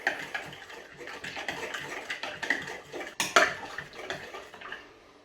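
Mint sauce stirred into a chicken tikka marinade in a bowl, soft wet scraping and light clinks of a spoon in an irregular rhythm, fairly quiet and close.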